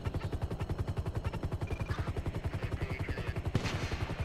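Rapid gunfire from Grand Theft Auto 5 gameplay: a fast, evenly spaced string of loud, close shots sounds continuously throughout, with a sharper crack near the end.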